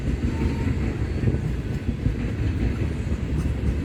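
Freight train with tank cars rolling by close, a steady loud rumble with faint wheel clatter throughout, no talk.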